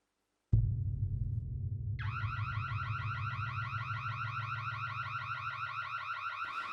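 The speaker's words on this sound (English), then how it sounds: "if you're setting off your house alarm for a fucking YouTube video" A house alarm blares from a watched clip: a low steady drone starts abruptly, then a loud pulsing electronic warble joins and repeats continuously, with no talk over it.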